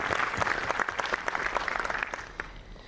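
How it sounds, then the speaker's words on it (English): Applause from an audience at a university ceremony in Kanpur honoring a doctor and his team, a brisk, fairly distant wash of many hands clapping that fades slightly toward the end. "Really, you and your team need a round of applause."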